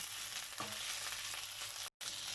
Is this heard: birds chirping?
no